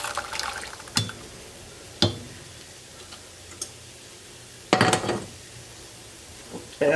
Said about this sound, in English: We're going to add our partially cooked beans to it.